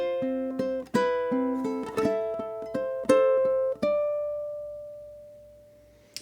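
Ukulele picking a short phrase of the carol O Holy Night, several plucked notes and chords in a slow rhythm that ring out into a final sustained note, close and clear with no talking.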